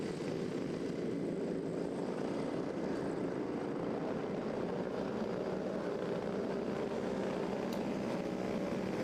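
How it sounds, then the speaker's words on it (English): A pack of racing cars revving on the starting grid at Franciacorta before an 8-lap race, producing a dense, loud, continuous engine roar that fills the whole stretch without letup. "Revs rise, noise increases."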